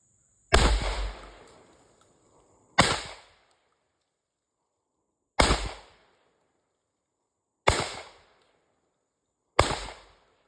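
A Tristar Raptor 20 gauge shotgun fires five loud, sharp shots at clay targets outdoors. Each blast is spaced a couple of seconds apart and trails off in a short echo.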